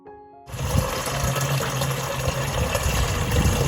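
A 15-liter electric power knapsack sprayer runs steadily, a constant motor and pump hum with a watery hiss that starts abruptly after a short quiet moment and holds at an even, close level.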